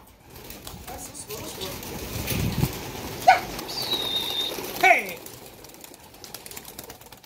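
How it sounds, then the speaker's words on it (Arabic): Homing pigeons taking off, with bursts of wing flapping over a steady outdoor background, two louder flurries standing out, while people talk nearby. "عشان تبين الحمام وهي طالعه"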